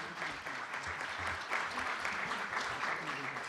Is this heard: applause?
yes